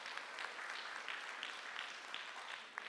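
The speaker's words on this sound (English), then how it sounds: "Let's give her a round of applause" Audience applause at a community town hall in Rustenburg, a soft, steady wash of many hands clapping at some distance, even and sustained throughout with no voices standing out.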